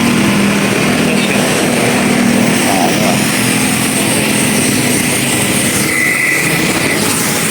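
A new power sprayer engine runs loud and close, a constant droning roar with a steady buzzing tone that holds without a break throughout.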